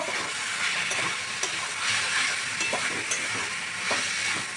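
Mutton pieces frying with ground spices in a pan over lowered heat, a steady close sizzle broken by occasional stirring scrapes, with no voices.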